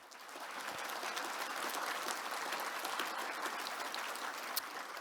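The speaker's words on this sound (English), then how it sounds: "Let's give them a big round of applause." Audience at a cultural diversity awards ceremony gives a steady, even round of applause, a continuous mid-distance patter of many hands held for the whole stretch without voices.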